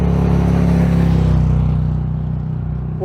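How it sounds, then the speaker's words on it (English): Road traffic passing along a roadside walking route, a steady loud low engine rumble and whoosh of vehicles going by close, fading slightly toward the end, with no talk. "Traffic's noisy today."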